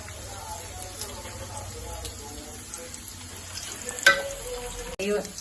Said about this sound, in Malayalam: വറവ് ഇങ്ങനെ ഫ്ലെയിം കൂട്ടട്ടെ